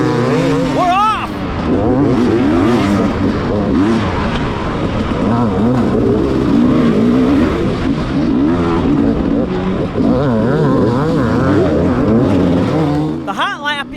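Dirt bike on a hard enduro hot lap in Iowa, the engine loud and close, revving up and down repeatedly as it accelerates over rough terrain, with a person speaking at times under it.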